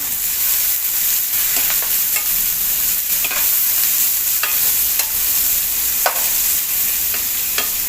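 Chopped onions fry in a pan for a Punjabi-style rajma masala, giving a steady close sizzle with occasional soft stirring scrapes, with no talking over it.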